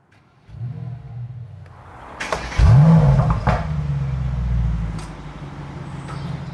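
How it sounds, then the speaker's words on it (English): A 2021 Mercedes-AMG E63 S engine cranks and fires up with a loud, deep roar, then settles into a rumbling idle that stays steady and close. "you have to hold the paddle to get the AMG Emotion Start louder start up"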